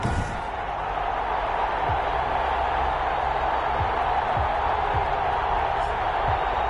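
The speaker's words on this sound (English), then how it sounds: "Fireworks, pyrotechnics, you name it, this crowd is ready" A football video game stadium crowd for a Los Angeles Rams and Detroit Lions matchup roars in a steady, dense wash of cheering, with occasional thumps beneath.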